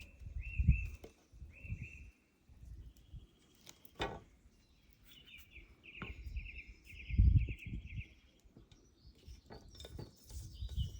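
Birds chirp and trill in short repeated phrases in a pine forest, moderately distant, over a soft low outdoor rumble and occasional rustling.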